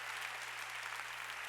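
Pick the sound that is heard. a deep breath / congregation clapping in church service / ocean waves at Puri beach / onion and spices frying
congregation clapping in church service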